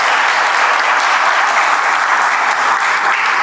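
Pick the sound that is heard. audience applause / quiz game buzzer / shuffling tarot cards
audience applause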